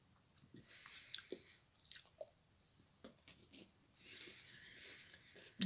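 Quiet, close crunching bites and chewing of a Christmas-themed Kit Kat chocolate wafer, with irregular pauses, a few soft mouth sounds, no talking.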